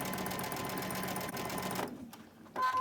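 A sewing machine runs steadily while stitching a chain stitch quilt block with a 2.5 stitch length and a size 12 needle, a dense continuous whir that stops near the end before a short burst of other sound.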